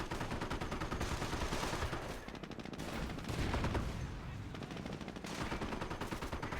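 Artillery and gunfire rumble through a Company of Heroes battle on the Semois map, with sustained dense bursts of shooting and booming impacts forming a constant, fairly quiet wall of combat noise.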